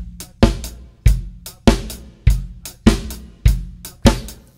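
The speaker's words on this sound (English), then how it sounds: "Here's the full groove with the snare drum on 2 and 4." A full drum-kit groove plays with the snare drum cracking on beats 2 and 4 over kick and hi-hat, a steady, punchy loop heard up close with no voices.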